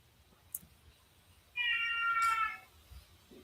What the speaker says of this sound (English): It's Kitty outside the door meowing.